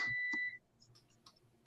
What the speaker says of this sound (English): it lets you know when it gets to temperature